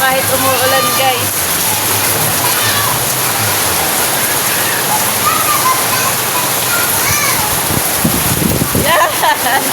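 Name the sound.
heavy rain pouring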